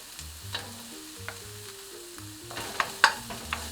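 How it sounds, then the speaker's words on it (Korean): Carrots and garlic stir-frying in a pan, with light scattered sizzling and a few sharp spatula clicks and scrapes against the pan, quiet and close. "마늘이 볶아지면 저희는 이 당근을 넣고 볶아주세요"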